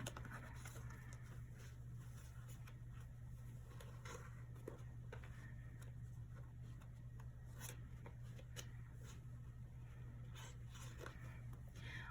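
Soft papery shuffling of tarot cards, a steady rustling patter with light taps, close by over a low constant hum, with no talking.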